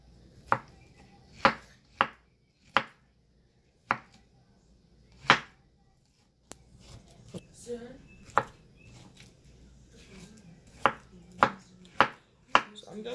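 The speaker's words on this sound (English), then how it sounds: "I'm just going to slice all this now" Sharp knife chops land on a cutting board in a loose, steady rhythm, close and crisp, with quieter scraping and handling between strokes, while preparing plantain moi moi.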